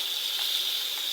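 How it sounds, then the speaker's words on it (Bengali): Prawns and onion fry in a pan, giving a steady, even sizzling hiss that stays constant and close throughout, with no voices over it. "চিংড়ি মাছটা দিয়ে এই পেঁয়াজটা আরও কিছুক্ষণ ভাজবো"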